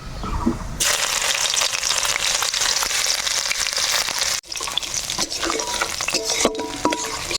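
Loud, continuous sizzling of garlic frying in hot mustard oil, with stirring scrapes; the sizzle drops briefly midway, then resumes with clinks of a utensil.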